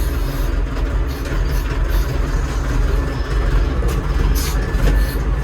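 A Kentavr 504 tractor pulling away in first gear, its engine giving a steady, close, low rumble with mechanical rattling throughout and no talk.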